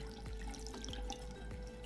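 Water is drained out of a plastic fish bag for an aquarium, a steady close trickle and splash pouring continuously with faint drips on top.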